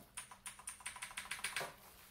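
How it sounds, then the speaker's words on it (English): Rapid keystrokes on a Redragon K580 Vata mechanical keyboard with Otemu switches, about a dozen sharp clicky presses in a steady rhythm, close and clear with no talking. "this is my first time using a mechanical keyboard"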